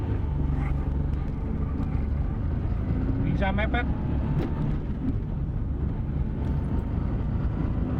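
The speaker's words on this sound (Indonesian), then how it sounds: "Dan mesinnya ternyata raungannya cukup halus." A Daihatsu Ceria city car's engine hums at around 3000 rpm while driving at 40 km/h, a steady smooth drone heard from inside the cabin under road and wind noise, with someone talking over it.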